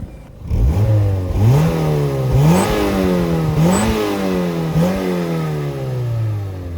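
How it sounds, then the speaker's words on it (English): Stock 2-litre four-cylinder engine of a 2005 Mazda MX-5 NC with the standard twin-outlet exhaust, revved up four times in quick rising sweeps, close and loud, each rev climbing and dropping back with no voices. "All right, Morpheus, what does a stock 2-litre 4-cylinder MX-5 sound like?"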